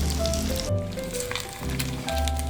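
Garlic toasting in a pan for squid adobo gives a steady, close sizzle, continuous and fairly loud, with brief dips and low stirring rumbles mixed in.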